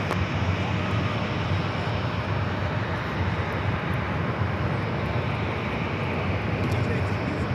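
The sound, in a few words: Southwest airliner taking off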